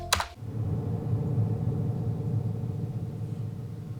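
One sharp tub thud hits at the start, then a deep, rumbling double-reverb tail swells and lingers, dark and booming, fading slowly.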